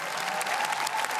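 Studio audience applause on a German TV quiz show for a school class, a dense, steady wash of clapping throughout the short stretch with no voices over it.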